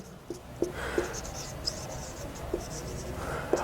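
Pen writing the total marks on a math paper, a soft continuous scratching with small taps, close by over light background noise.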